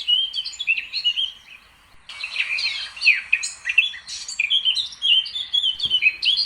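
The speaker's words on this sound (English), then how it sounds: "Blackcaps have a lovely melodic song and have been compared to nightingales." A blackcap sings in the New Forest during the spring dawn chorus, a bright, melodic warbling run of phrases, clear and close, that pauses briefly then resumes richer, with a faint low thump near the end.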